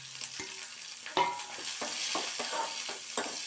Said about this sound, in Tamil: இது எல்லாத்தையும் போட்டு வதக்கிட்டுருலாம்.